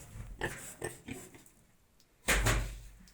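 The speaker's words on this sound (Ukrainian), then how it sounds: "Наші поросята, даємо їм траву, вода і сухе зерно." Piglets of about 20 kg grunt in short repeated bursts, followed by a louder, longer squealing grunt close by.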